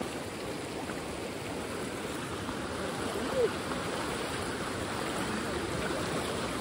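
Steady rushing water of the Kumbhavde waterfall in the Konkan, running with reduced force before the heavy rains, a broad continuous wash that fills the whole stretch without letting up.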